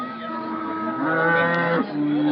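A dairy cow at the Anthiyur cattle market gives one long, loud, close moo that holds steady for a couple of seconds and shifts in pitch near the end.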